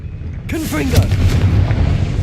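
A Confringo blasting spell goes off in the Hogwarts Legacy video game, a loud sudden boom with a swirling, zapping burst that rumbles and fades over about two seconds.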